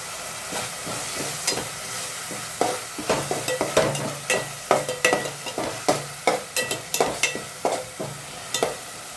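Curry leaves hit hot oil in a pan while preparing egg masala dry, giving a loud crackling sizzle with repeated sharp pops and spits through the whole clip, no voices.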